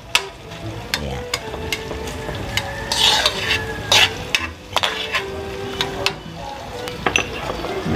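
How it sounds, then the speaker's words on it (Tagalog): Onions sautéing in a pan for garlic buttered shrimp with canton noodles, a close sizzle broken by frequent metal spatula scrapes and clinks against the pan. "Hintayin natin maluto ang ating sibuyas."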